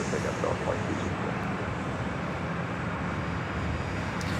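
A Delta airliner takes off from runway 24 left at LAX, heard as a distant, steady broadband jet roar that stays level throughout, with radio talk faintly present.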